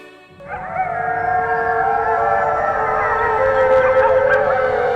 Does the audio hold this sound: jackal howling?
yes